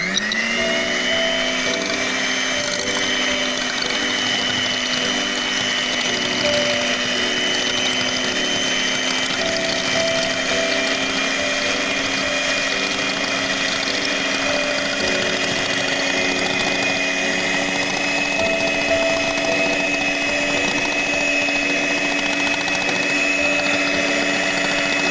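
An electric beater whips two eggs for black forest cake batter, a continuous loud motor whir holding steady for the whole stretch with no pauses.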